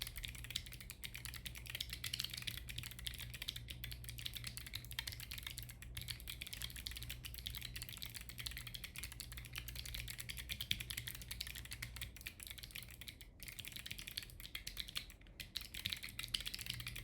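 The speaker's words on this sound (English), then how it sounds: "I need to do like a typing test to warm up get my keyboard in the right spot." Steady, rapid clatter of fingers typing on a computer keyboard during a typing test, close and continuous with scattered louder key hits, no voices.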